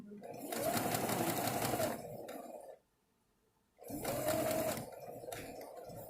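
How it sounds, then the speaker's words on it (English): Sewing machine running fast while stitching fabric for quilt pieces cut off a triangle, a loud steady motor whir in two long bursts with a short pause between. "And then just sew right on and off."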